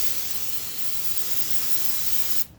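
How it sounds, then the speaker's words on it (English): A steady hiss of aerosol brake cleaner sprayed onto an Infiniti JX35/QX60 front brake caliper runs continuously for a couple of seconds, close by, then cuts off abruptly. "We're just going to go ahead and spray it down up here."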